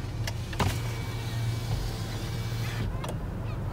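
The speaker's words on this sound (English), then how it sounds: "I gotta roll down my window so you can hear this" A car's electric power window motor runs continuously under low road rumble, with a couple of brief sharp clicks and squeaks during the steady whir.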